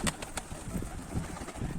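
Soft pigeon cooing and rustling with a few sharp taps, faint and outdoors.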